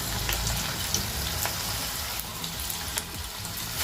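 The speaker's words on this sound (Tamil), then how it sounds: "இது நல்லா பொன்னிறமாக ஆகிற வரைக்கும் நம்ம ஃப்ரை பண்ணி எடுத்துக்கலாம்" Beetroot and carrot pakoda pieces fry in hot oil with a continuous crackling sizzle, with a few sharper pops and bubbles over the steady hiss.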